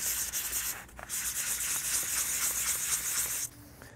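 Steady, continuous scratchy sanding of a vacuum-formed plastic form, rubbing back and forth at close range for several seconds before it abruptly drops off near the end.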